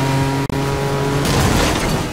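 A McLaren race car engine in Need for Speed: Most Wanted drones with a steady, loud tone that briefly cuts out, then roars harder with a rough, swelling rush.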